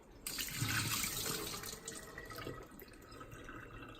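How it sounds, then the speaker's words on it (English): Tap water gushes steadily into a bowl of frozen deveined shrimp, a close, splashy hiss starting suddenly and continuing throughout with small splashes and gurgles. "you take them out in a bowl and you run water on them"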